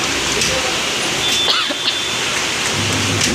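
Rain falls outside as a steady, dense hiss that fills the whole moment, with faint indistinct voice traces underneath.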